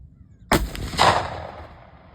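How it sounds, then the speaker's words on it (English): A Mossberg 500 shotgun fires a single Aria Ballistics elephant slug outdoors, a sharp, loud blast that rings out and decays over about a second and a half. "so I'm just gonna do one more shot"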